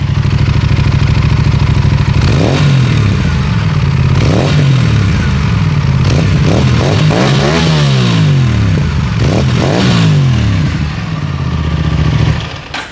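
Aprilia RS 457 with a GPR full-system titanium exhaust and dB killer still fitted, idling loudly up close, then blipped through a series of sharp rising and falling revs, with idle between the blips.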